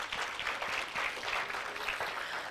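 An audience applauds at a ceremony honouring top matric achievers in social development. The clapping is even and moderately loud, a continuous patter from many hands.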